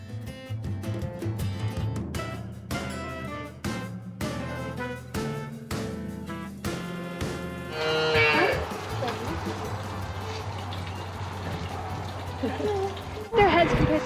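Young calves, about six weeks old, mooing on a New Zealand farm near Mt Taranaki: several short, repeated moos close by, with people talking.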